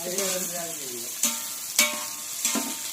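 Onions frying in a pan for mutton biryani, a continuous sizzle with a few sharp scraping stirs, close up, with a voice briefly audible at the start.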